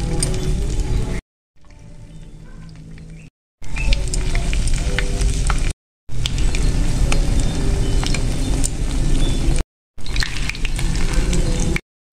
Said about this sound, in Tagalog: Kasi, yan ang ipiprito natin. Iko-coated natin siya dito sa ating egg.